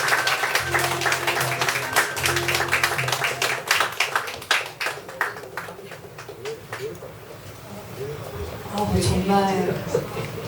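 An audience at a poetry book concert claps warmly, a sustained patter of many hands that swells and then thins, with a host's voice speaking over it.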